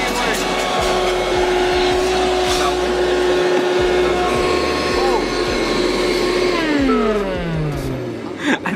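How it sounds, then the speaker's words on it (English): A vacuum cleaner blows air out through its exhaust in a car being detailed, giving a steady loud motor whine and rushing airflow that drops in pitch near the end as it winds down, with voices talking over it. "I think the vacuum is broken."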